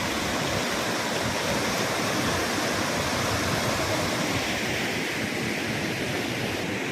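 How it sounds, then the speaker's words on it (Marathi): Water from the Terna dam pours down into a river, a steady loud broadband roar of rushing, crashing water that holds unbroken and close throughout, with no voices. "ही नदी चरणा धरणातून पाणी हे पडत आहे"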